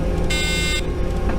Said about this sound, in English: The beeping's begun.